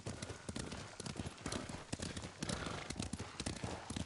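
Steady, rapid clip-clop of horse hooves trotting in the video game Ghost of Tsushima, dense and continuous, with a low rumbling background throughout.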